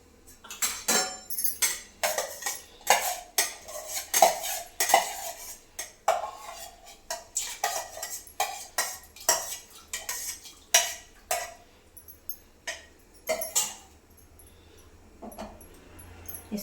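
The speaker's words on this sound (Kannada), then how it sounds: "ಇಲ್ಲಿ ಹೆಸರು ಬೇಳೆಯನ್ನು ಹಾಕ್ತಾ ಇದ್ದೀನಿ." Washed moong dal going into a cooking pot for payasam, heard as a string of close, irregular metallic clinks and clatters of a utensil against the pot, each sharp tap fading quickly, with no talk.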